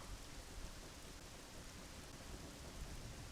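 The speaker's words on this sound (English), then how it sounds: "The Song of Storms causes it to rain. It's currently raining." Steady, even rain called down by the Song of Storms in Ocarina of Time, a soft continuous hiss at low level with a faint low rumble, no voices.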